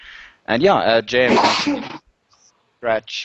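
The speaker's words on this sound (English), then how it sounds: "bless you" A single close sneeze bursts out in the middle of a podcast conversation, with people talking just before and after it.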